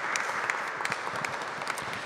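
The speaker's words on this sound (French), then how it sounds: "Mais là, déjà, on vous applaudit" Steady applause from an audience at a French parish talent show in Barbezieux, many hands clapping with scattered sharper claps standing out, moderately distant and continuing evenly throughout.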